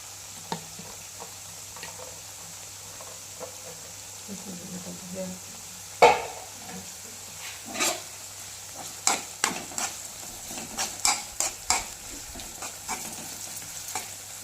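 Orange peel fries slowly in oil over a low flame while homemade carrot skin oil is prepared, giving a faint continuous sizzle. Sharp spoon clinks and scrapes against the pan come in scattered bursts, loudest around the middle.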